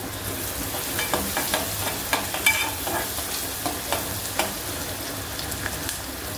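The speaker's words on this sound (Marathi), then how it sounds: "कांदा जरा गुलाबी रंगावर परतून घ्यायचा आहे" Chopped onion sautés in hot oil for a traditional bombil batata dish, with a steady sizzle broken by repeated sharp taps and scrapes of a spatula stirring the pan up close.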